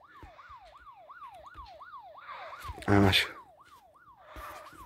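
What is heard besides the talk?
police siren in video game Car Parking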